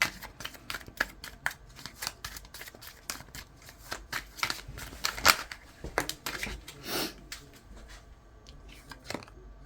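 A deck of tarot cards is shuffled in quick, crisp riffles and flicks, a string of sharp papery snaps close by with short pauses between bursts.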